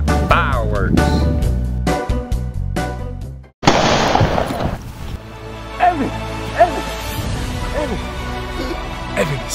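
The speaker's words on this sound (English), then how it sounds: "I got fireworks." Fireworks in a prom proposal film go off as sharp cracks and pops, with a burst of loud noise midway and scattered bangs after it, while people talk over the top.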